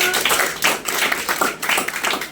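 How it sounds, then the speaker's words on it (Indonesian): Classroom applause for a student group after a presentation, a brief patter of a few hands clapping with uneven bursts, fairly close and without voices. "tepuk tangan untuk kelompok 1"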